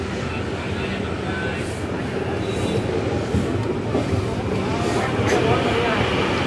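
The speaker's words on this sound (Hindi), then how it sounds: "ये 1018 किलोमीटर्स की जर्नी कवर करके संपर्क क्रांति सुपरफास्ट एक्सप्रेस बिहार के मेहसी रेलवे स्टेशन पर अराइव हुई है" The Sampark Kranti Superfast Express rumbles steadily at Mehsi railway station in Bihar, a loud continuous rolling drone with faint clanks.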